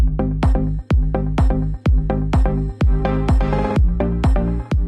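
A loud deep house excerpt of a track, with a steady pounding kick on every beat under sustained synth chords and bright upper layers, dense and continuous without voices.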